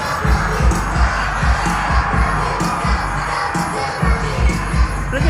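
A large outdoor festival crowd at Coachella cheers and shouts for a performer, a dense continuous roar with scattered whoops and rhythmic bass thumps from the stage underneath.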